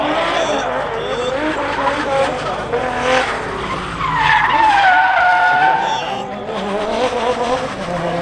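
A car skids and spins out with sustained squealing tires, rising and falling pitch and a roaring engine, loud and close throughout with a voice heard under the noise.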